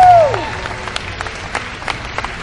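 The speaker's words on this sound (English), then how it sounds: "Let's give him a big round of applause" Esports crowd at the 2007 MLG Las Vegas National Championships bursts into applause, dense clapping right after a loud voice fades, holding steady with scattered sharper claps throughout.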